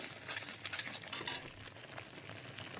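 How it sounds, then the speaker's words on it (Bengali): Egg and potato masala being stirred and fried in a pan, a soft steady sizzle with scraping stirs, fairly quiet throughout. "এই যে আমার ডিম আলুর মশলাটা সুন্দর করে কষিয়ে"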